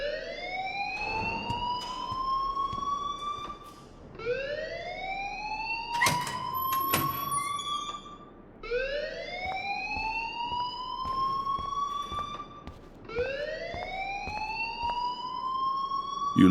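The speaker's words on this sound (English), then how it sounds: "please turn off that alarm since that's your job" A fire alarm blares in the video game Life Is Strange, its rising, wailing tone sweeping upward in repeated cycles of about four seconds, loud and steady with brief dips between sweeps and no talk over it.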